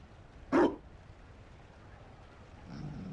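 A single short dog bark in Dragon Age Inquisition, loud and close against a quiet background, followed by a faint low rumble near the end.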